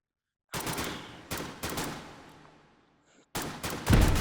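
Gunshots from an old Model 8 rifle in the VR shooter H3VR, a few sharp loud reports in close succession with gaps between, each trailing off into room echo, no talking.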